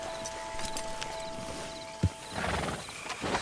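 Horse hooves clopping over ground in Red Dead Redemption 2, with a soft neigh, a sharp thud midway and steady game ambience of wind and a faint tonal hum underneath.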